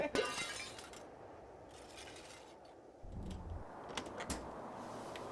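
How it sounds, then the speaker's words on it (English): Window glass smashed inside an abandoned slaughterhouse: a sharp burst of breaking glass at the start, with scattered clinks and a few later impacts over a steady background. "Did you smash a window?"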